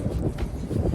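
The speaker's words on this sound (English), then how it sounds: "I'm cold and it's windy" Cold wind gusting outdoors in nature, a brief low rumbling buffet across the microphone, loud and close, with no talk.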